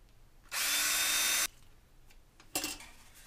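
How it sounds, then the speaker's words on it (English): A power drill bores a lens hole through a model rocket airframe tube in one loud, high whining burst of about a second, then stops, with a short scrape or second brief touch of the bit shortly after. "So we'll drill it"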